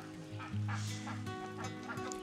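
Geese at a bird of prey sanctuary in Hellenthal, Germany, honk and cackle close by in a short burst of several calls, with a steady low hum underneath.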